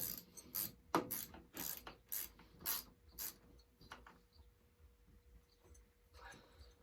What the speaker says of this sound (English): Got one more bolt to go after this one, and then we are good to go and taking off that head.